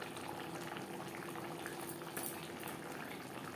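Pabda fish curry with potato and eggplant simmering in its gravy, a steady close bubbling and gentle boiling hiss throughout, with no talk.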